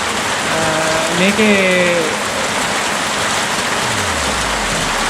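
Rain falls steadily and densely in an outdoor setting, with a continuous hiss of drops on surfaces throughout. Someone speaks briefly over it and a few faint calls come through the downpour.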